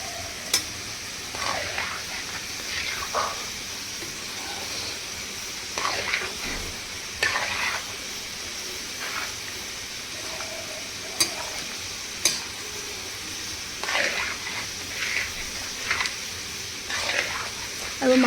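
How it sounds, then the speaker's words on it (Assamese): Soybean and potato pulao cooking in a kadhai on the stove, stirred now and then: soft steady sizzle underneath, broken by repeated scraping, clinking spoon strokes against the pan at irregular intervals. "এয়া এনেকৈ মই মাজে মাজে লৰাই দিছোঁ"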